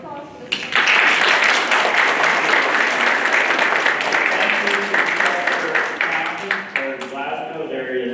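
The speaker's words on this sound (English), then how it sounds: "we're going to give another round of applause for this." An audience at an academic symposium breaks into applause, loud steady clapping that swells quickly and tapers off near the end, with a voice emerging faintly as it fades.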